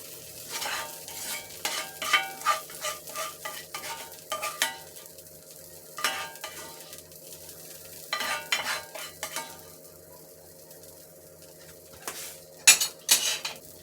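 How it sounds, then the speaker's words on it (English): A utensil scrapes browned chicken out of a cast iron skillet in repeated metallic strokes, with bursts of scraping separated by pauses and a low sizzle underneath. "We're going to take it out the skillet and put that to the side."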